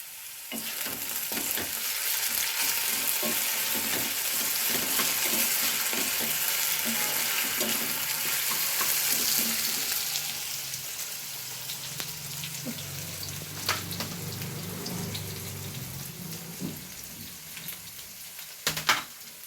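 Potatoes fry in a pan alongside a roti during a hot power outage at home, with steady broadband sizzling and occasional stirring scrapes throughout, louder in the first half and settling into a softer crackle later.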